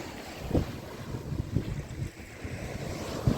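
Sea waves wash onto the beach at Dandi, Malvan, a steady broad surf roar with a few heavier wave thumps, mixed with strong wind buffeting the microphone and no speech.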